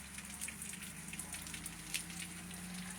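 Rain falls in Tulelake in late May, a steady soft hiss with scattered crisp droplet ticks, quiet and continuous with no talking.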